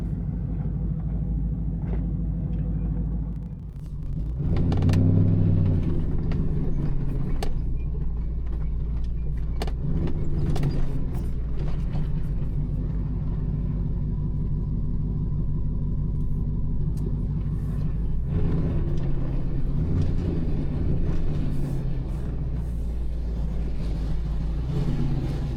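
Car driving with a Wolfbox G900 dashcam mounted inside, a steady low engine and road rumble from within the cabin, with a few soft knocks and bumps over the drive.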